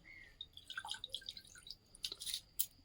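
Water dripping and splashing in small irregular drops as shrimp are rinsed, faint and close with a few quick bursts near the end.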